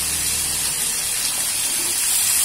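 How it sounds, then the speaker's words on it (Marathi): Water crackling and hissing in a hot kadhai holding slices of ratalu (purple yam) put straight in from water and steamed, a steady broadband sputter close by with no talk. "ते पाणी थोडंसं तडतडत आहे"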